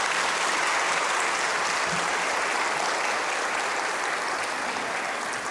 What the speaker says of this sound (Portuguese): Mais uma vez, uma salva de palmas ao cantor.